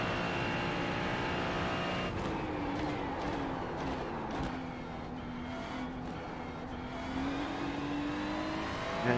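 A NASCAR stock car engine in the iRacing simulator at Kansas roars continuously, its pitch dipping and climbing through gear changes and revs over about nine seconds, loud and steady with no talking.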